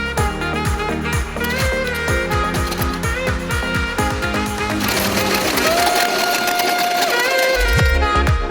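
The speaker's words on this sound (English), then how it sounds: "this is how I will just finish sewing" A sewing machine stitching a ruched sleeve runs close and loud in a fast, even mechanical chatter, slowing briefly near the end before a final burst, with no talking.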